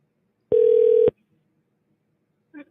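A telephone call goes through on the line: a steady electronic tone holds for about half a second, loud and alone, then silence and a brief faint blip near the end.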